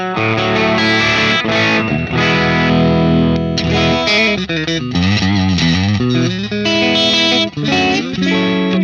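Electric guitar through a Neural DSP Quad Cortex capture of a Marshall amp on a classic gain setting, playing loud, continuous driven chords and riffs with sustained notes and bends, alone without talk.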